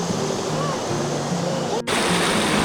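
River water rushing over rocks at a rice-field eco campsite, a continuous broadband roar close by, with a brief dropout near the end and voices faintly mixed in.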